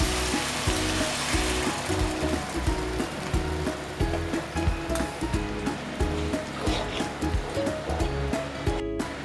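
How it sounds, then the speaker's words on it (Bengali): Fried masala for doi bhetki sizzles loudly as a little water hits the hot pan, a dense continuous hiss with rapid crackling pops throughout. "এর মধ্যে আমি এবার একটু জল দিয়ে দেবো।"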